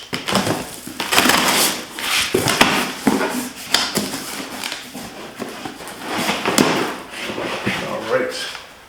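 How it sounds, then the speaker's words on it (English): An X-Acto blade cutting through cardboard packaging on a 12V synthetic-rope winch box, with continuous close scraping, crunching and ripping sounds throughout, and some speech mixed in. "I really have to invest in a much cooler knife for unboxing instead of using an X-Acto blade"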